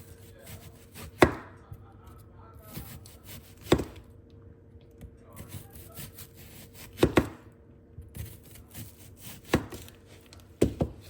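A knife chops thinly sliced onions on a board in a home kitchen for a cheeseburger, with sparse, irregular sharp thuds spread over a quiet background hum and no talking.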